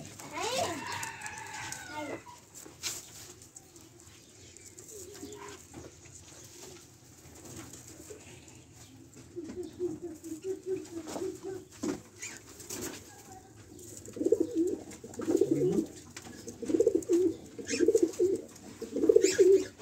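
Soft, low cooing from a pet dove fed a healthy diet that laid an egg in its food dish, coming in repeated short phrases toward the end with faint rustling earlier and no talk.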